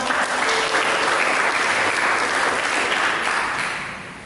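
A church congregation applauds at a sermon, a dense steady wash of many hands clapping that fades toward the end, with no speech over it.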